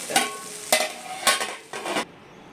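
Cluster beans fry in a pan on high flame, with four distinct bursts of sizzling and scraping stirs coming near and fairly loud, separated by quieter pauses and ending abruptly.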